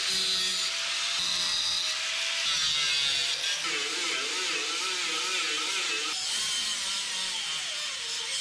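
Sheet metal on a 1976 GMC truck cab is trimmed for a patch panel, producing a sustained grinding, rasping whine that shifts pitch partway through, loud and close with no talk.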